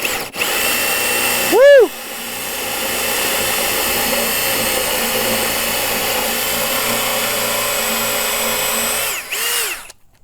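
Power drill boring with an old 1 3/8 inch bit, winding up with a rising whine, then a loud steady grinding drone for several seconds before spinning down; a voice briefly exclaims near the start.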